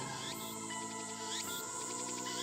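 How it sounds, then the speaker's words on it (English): Cicadas drone without a break in the Steins;Gate visual novel game, a dense, steady buzzing layered with rhythmic pulsing swells. The sound is loud and constant, with no voices. "Damn cicadas won't shut up."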